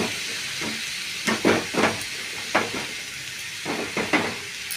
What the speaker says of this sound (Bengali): তারপরে ফ্রাই করে রাখা লাউগুলোকে আমি এর মধ্যে ঢেলে দেব।